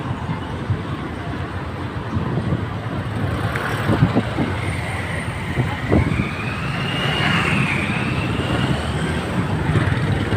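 Steady roar of road traffic on a roadside, vehicles rumbling past, a continuous broadband wash of engine and tire noise, fairly loud and close.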